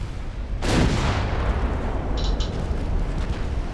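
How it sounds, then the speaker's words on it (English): A torpedo detonates against a ship in a naval warfare video game: a sudden loud blast followed by a rumbling, noisy decay with a brief higher-pitched game alert partway through. "Torpedo detonation."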